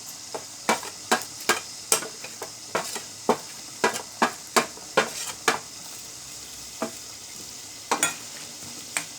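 Coriander seeds and shahjeera dropped into a hot pan over low gas for a Maharashtrian black masala brinjal dish, giving a soft sizzle under a string of sharp metallic taps and stirs, fairly quiet and close.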